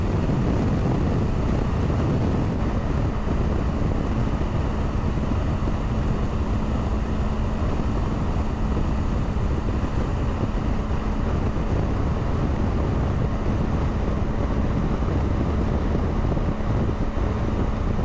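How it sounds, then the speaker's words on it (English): Loud, constant rushing wind buffeting the microphone while riding a BMW R1250 GS Adventure motorcycle on the highway from Winnipeg to Calgary, a dense low roar that never lets up. "It's a little bit less windy, but still quite a bit of it to feel."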